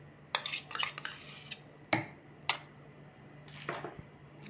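Spoon clinking against a container while stirring a neem mixture into melted homemade soap base, several sharp taps and scrapes spread across a few seconds, faint and close.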